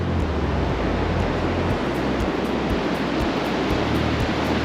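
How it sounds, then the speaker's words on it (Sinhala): Incoming high tide surging onto the coast at Tongapōrutu near the Three Sisters rock stacks, a loud continuous roar of surf with wind buffeting the microphone and no voices. "දැන් වතුර එනවා මේ හයි ටයිඩ් එකට එන්න යන්නේ"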